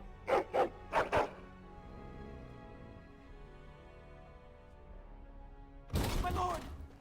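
Dog barking in the video game Dragon Age: Origins: three sharp barks up front, then a low ambient hum with faint rumbling, and a burst of louder noise near the end.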